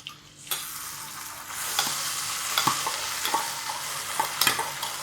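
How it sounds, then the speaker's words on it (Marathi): Khichdi cooks in a pan as a spoon stirs it, sharp scraping knocks at uneven intervals over a continuous sizzle, close and clear with no talking. "आता खिचडी करते"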